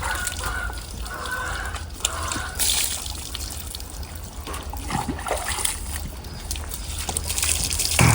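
Water trickles and splashes steadily into a basin, a continuous running pour with occasional louder gushes.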